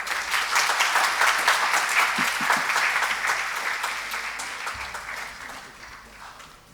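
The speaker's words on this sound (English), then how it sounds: "I request our Chancellor, Sir, to welcome him with a huge round of applause." A ceremony audience gives a loud, sustained round of applause that fills the room, then slowly tapers off toward the end.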